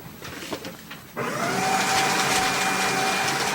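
A grinder starts up with a steady, loud whirring drone after a moment of quieter background noise, running continuously and close by without any talk.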